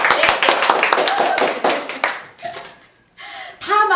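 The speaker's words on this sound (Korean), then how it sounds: "우리 저기 방청객 여러분 이럴 때 박수 한번 주세요" A Korean talk-show studio audience bursts into brisk, dense clapping for about two seconds, which fades as voices and laughter take over.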